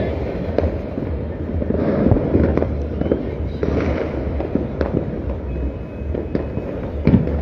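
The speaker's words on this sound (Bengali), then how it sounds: "রাজধানীবাসী তারা কিন্তু বিভিন্ন ধরনের আতসবাজি ফুটিয়ে তারা কিন্তু নতুন বছরকে স্বাগত জানাচ্ছে" Fireworks burst across Dhaka on New Year's Eve as a dense, continuous barrage of crackles, pops and booms at varying distances, with faint voices in the background.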